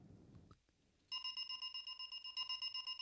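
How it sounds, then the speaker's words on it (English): A high, synthesized isochronic tone built in Ableton switches on after a quiet second and pulses steadily in rapid, evenly spaced on-off bursts, its bright layered harmonics sounding loud and close. "isochronic tone"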